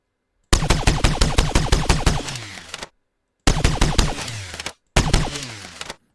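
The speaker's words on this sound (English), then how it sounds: "now it's going to trigger the tail, which we're using as a reload sound, only on the finish of the burst" A designed gunfire burst built in Krotos for game audio: three loud rapid automatic bursts separated by short silences, each ending in a mechanical reload tail, with no voices.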